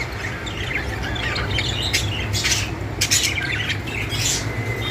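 Budgerigars in breeding condition call from a cage, a dense, continuous stream of chirps, squawks and chatter, close and steady, with no voices over it.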